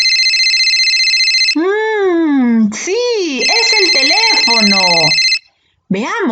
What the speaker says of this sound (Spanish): Sí, es el teléfono.